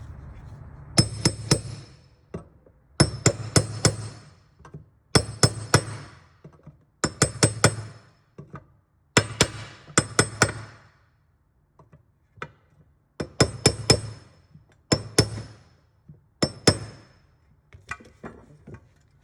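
A socket taps a new valve cover seal into place on an Acura TL Type S V6, giving about nine clusters of sharp metallic knocks, several quick strikes in each, close and crisp with short pauses between.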